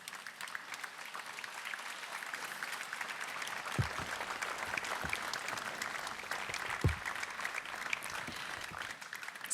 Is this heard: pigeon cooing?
no